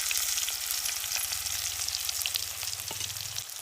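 Finely chopped onion hits hot oil already crackling with mustard seeds and reddened cumin, giving a steady, close sizzle with soft rhythmic scraping underneath throughout.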